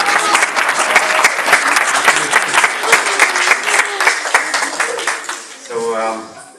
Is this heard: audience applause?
yes